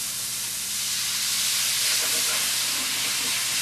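Coffee hitting a hot, well-browned pan to deglaze for chicken with chocolate sauce gives a steady, loud steaming hiss that swells slightly midway, with no talk over it.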